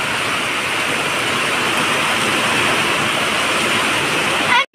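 Steady, dense hiss of heavy rain pouring down, loud and continuous, with a faint voice underneath; it cuts off abruptly at the end.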